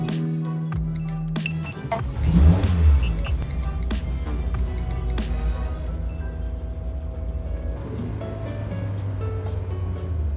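A 1974 BMW 2002 B-Sedan running on a Weber 38/38 carburetor idles with a low steady hum after mechanical clatter and a brief louder rev, alone without talk.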